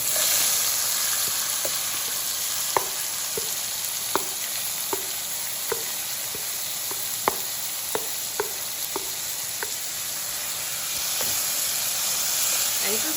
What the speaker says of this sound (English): I'm going to saute this on high until the vegetables are partially cooked.